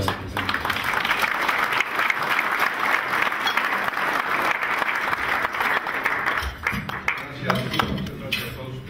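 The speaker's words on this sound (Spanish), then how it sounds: "saludamos con un aplauso a la doctora Adalberto Noyola Robles de la Secretaría" Sustained, dense applause from an audience greeting a speaker at a breakfast event, loud and continuous throughout before thinning slightly near the end.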